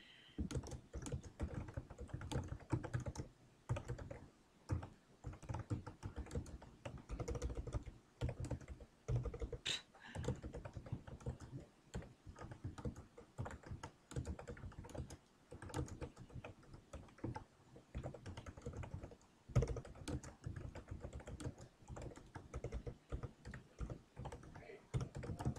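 Someone types on a computer keyboard with a continuous, irregular patter of soft key clicks, fairly quiet and close, with no talking.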